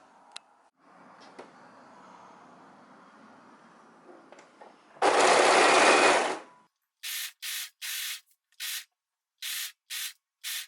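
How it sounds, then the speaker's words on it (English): A sewing machine stitching the side seam of a scarf top from armpit to hem, first a soft hum, then a loud steady run, then a series of short evenly spaced bursts, close and without talk. "I'm just gonna start here where the armpit is and just gonna sew all the way to the end"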